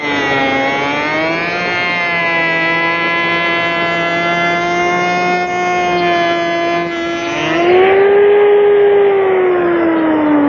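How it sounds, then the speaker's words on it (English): Router fitted with a large carbide bit running at its slowest speed, a steady loud harmonic whine that holds level, then shifts pitch near the end as the load changes, with no talk. "I'm going to slow the router speed down to its slowest speed"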